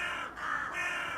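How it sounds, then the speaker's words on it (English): A crow gives a couple of harsh, rasping caws close by, loud and alone, with no talk. "Yeah, that's a crow."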